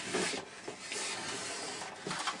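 Back cover of a TV being pried and pulled off after its screws are out, giving a continuous close scraping and rubbing of plastic with a few sharper creaks and pops, no talking.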